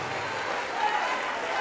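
A congregation claps in a São Paulo church, a continuous soft rattle of many hands at moderate distance, faint but unbroken.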